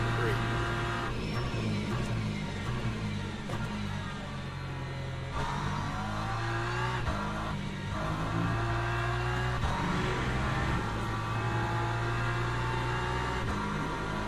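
Hypercar race car engines in the Le Mans Ultimate racing game drone steadily and loudly throughout, with sustained engine tones and occasional pitch shifts as the cars run flat out, and a voice talking over them.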